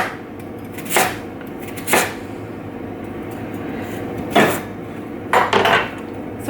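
Kitchen items are rinsed and moved into a pan, with several sharp clinks and clatters of pans and utensils standing out over a faint running-water hiss, loud knocks spaced irregularly a second or two apart.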